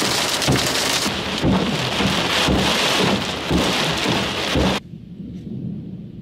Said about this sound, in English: You'll hear that thunder.